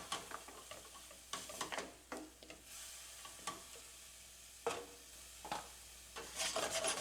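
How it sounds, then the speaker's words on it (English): Beef broth simmers and sizzles in a pan while a utensil scrapes caramelized bits off the bottom, with intermittent scraping strokes over a steady low bubbling, close and moderately quiet, no talking. "We scrape all that essential caramelization off the bottom of the pan"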